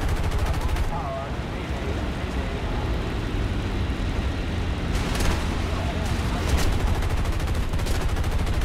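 The tail gun of a B-25 Mitchell bomber in War Thunder fires in continuous rattling bursts over a steady engine roar, with a voice speaking over the din.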